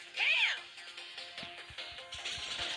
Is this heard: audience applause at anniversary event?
no